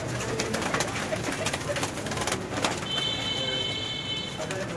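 Pigeons coo softly in repeated low burbles, with chirping birds and a faint high whine in the background.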